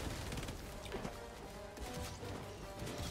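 Rapid gunfire and impact crashes from the co-op shooter Helldivers 2 with a mortar turret in play, dense and continuous bursts filling the whole stretch at steady loudness with no talk over it.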